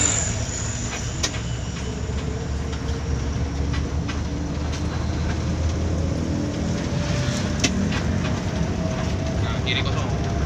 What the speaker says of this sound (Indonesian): Mantap ya suara. Mesinnya masih senyap.